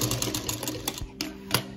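A sewing machine stitches a tie for a baby bonnet, running in quick rapid bursts of needle clatter close by, with brief pauses and a final short run.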